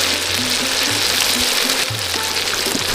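Chilli chicken sizzling hard in a pan outdoors in a village jungle setting as tomato sauce goes in, a loud steady fry with some stirring, no voices.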